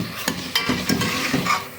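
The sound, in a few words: garlic ginger paste frying in oil, being stirred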